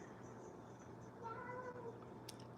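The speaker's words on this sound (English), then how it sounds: "And you can hear one of the cats" Indoor cat chattering and meowing at squirrels through a window, a short faint cry rising briefly over quiet room noise.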